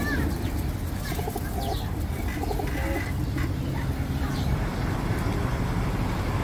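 Hindawi pigeons at an animal and bird market coo softly and repeatedly over a busy background of traffic rumble and crowd noise.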